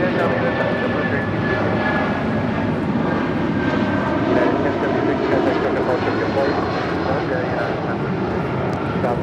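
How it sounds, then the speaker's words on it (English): A United Airlines Boeing 757-200 departs LAX, its jet engines producing a loud, sustained roar that stays steady and powerful throughout, heard from nearby on the ground. "This is United Airlines 1076 departing to Newark on a 757-200"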